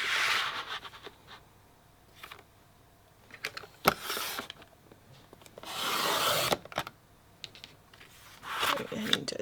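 Paper photos being trimmed for a Creative Memories Disney travel scrapbook album, heard as intermittent rasping, rubbing cuts in short bursts, fairly close and moderately quiet.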